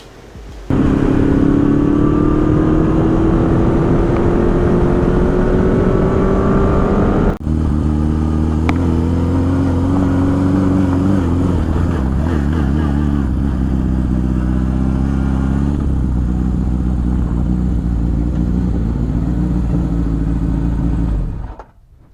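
Honda CX500 scrambler motorcycle being ridden, a loud steady engine drone that rises in pitch through gears, then holds a constant cruising note up close before cutting off.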